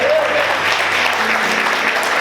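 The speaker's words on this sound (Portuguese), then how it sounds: "Você pode aplaudir o Senhor por isso?" A church congregation claps steadily in sustained applause, dense and close throughout, with a faint voice rising briefly at the start.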